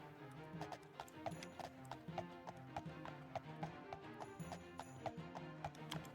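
Horse hooves clip-clop in the Daggerfall Unity video game, a steady, evenly paced rhythm of sharp hollow hits repeating for several seconds, fairly close and clear, with no talk over them.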